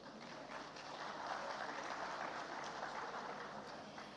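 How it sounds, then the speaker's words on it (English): An audience at the Ehingbeti Summit in Lagos gives a sustained round of applause, a faint, distant wash of clapping that swells slightly in the middle and holds steady for over four seconds. "Please can we applaud him?"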